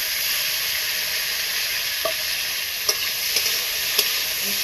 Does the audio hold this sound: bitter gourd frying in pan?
yes